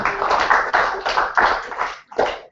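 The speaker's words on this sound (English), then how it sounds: "Give Jack a round of applause." Audience applause at a British Chess Championship round in Aberystwyth, a short burst of clapping in uneven waves that fades, then ends with one last clap, loud and near.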